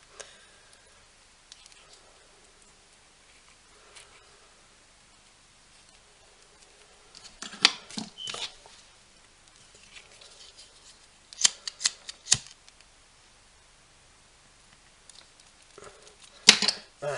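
Scissors snip away the excess threads of a tie-dye stripe macrame friendship bracelet, giving a few quiet, close clicks in scattered bursts against a mostly still background.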